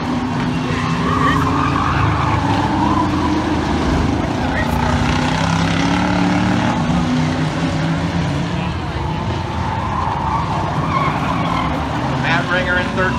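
Factory stock cars racing at Toledo Speedway, a continuous loud roar of several engines with shifting pitch as cars pass, heard from the grandstand under constant crowd and track noise.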